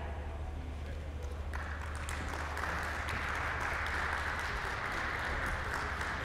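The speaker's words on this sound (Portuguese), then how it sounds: "A Carolina tem aplausos." An audience applauds a panel speaker at a retail sustainability event, a continuous broad wash of clapping that swells partway through and holds steady, heard from a distance.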